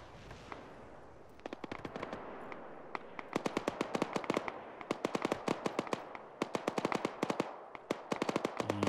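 Bursts of rapid automatic gunfire from a tank in a ShackTac military game clatter in quick, sharp volleys, sparse at first and then nearly continuous.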